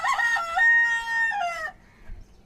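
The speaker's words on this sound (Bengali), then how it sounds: "মোরগের ডাক শুনতে শুনতেই তো সবাই পাগল হয়ে যাবে না" A rooster crows one long loud cock-a-doodle-doo close by, its drawn-out call fading after about a second and a half into quiet farmyard background.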